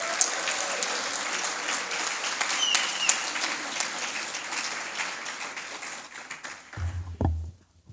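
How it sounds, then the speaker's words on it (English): An audience at a community appreciation event in San Jose applauds in a dense, sustained wave of clapping that fades out near the end, where a voice briefly starts. "One more round of applause."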